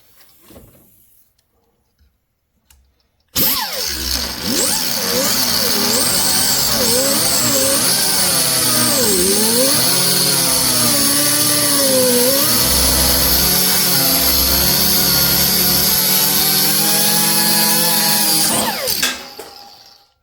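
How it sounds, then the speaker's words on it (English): A 3-inch die grinder cut-off tool starts abruptly and whines loudly for about fifteen seconds while cutting out a stud on a square body heater box, pitch dipping and wavering under load before spinning down. "Got my 3-inch die grinding cut off tool here. We're gonna cut this stud out of here."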